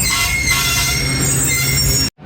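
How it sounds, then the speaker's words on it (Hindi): Rehman Baba Express train braking on the Rawalpindi to Faisalabad line, wheels giving a loud, sustained high metallic squeal over heavy rolling rumble, close by, then cutting off abruptly. "ये तो ब्रेक सप्लाई हो गई है।"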